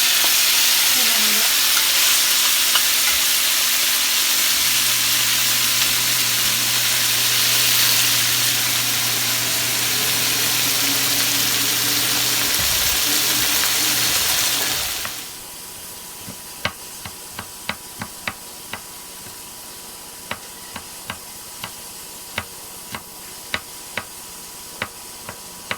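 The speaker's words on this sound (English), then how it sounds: "Now it's time to make the pork. Heat the pan with oil." Pork fries in hot oil in a pan over high heat, a loud, steady, close sizzle for about fifteen seconds, then quieter crackling broken by sharp intermittent pops and ticks.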